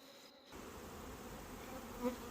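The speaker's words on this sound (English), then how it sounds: "Wow, the bees are grumpy." Honey bees at an open hive in late-summer heat hum in a steady, close buzz that swells slightly near the end, with no voices over it.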